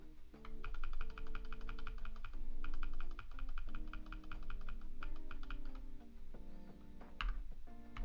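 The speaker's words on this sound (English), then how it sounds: "I love the sound of your keyboard." Steady typing on a mechanical keyboard fitted with quiet Cherry silent switches, a close, continuous run of soft clicky keystrokes in uneven bursts with short pauses, with no talking.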